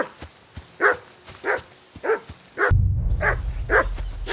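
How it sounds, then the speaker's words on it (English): Dog barking in the medieval video game Kingdom Come: Deliverance 2, a run of about eight sharp, evenly spaced barks, close and loud, with a low rumbling background swelling in partway through. "Henry, that barking's driving me nuts! Can you get your dog to shut its beak?"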